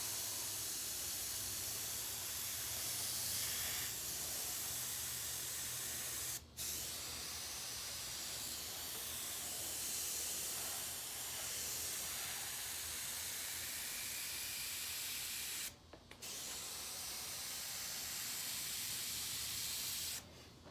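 Airbrush spraying paint onto a hoodie, a steady close hiss running almost unbroken for about twenty seconds, with two brief pauses where the trigger is released.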